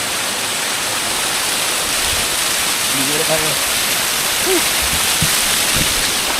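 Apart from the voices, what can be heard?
waterfall in Puerto Princesa, Palawan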